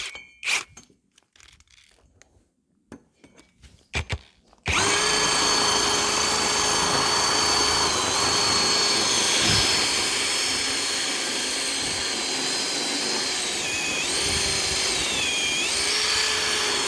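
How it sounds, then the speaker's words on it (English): After a few clicks and knocks, an electric drill spinning a diamond core bit whirs up to a loud, steady high-pitched whine that holds with slight wavering until the end. "just going to stick it in the drill"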